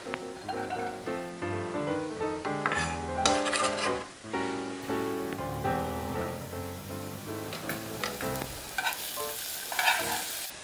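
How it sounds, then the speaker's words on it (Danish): Shallots sizzle in butter in a small pot, a steady frying hiss with stirring scrapes running continuously at moderate loudness, with no one talking. "Og så har vi her vores skalotteløg, som også kommer ned i gryden."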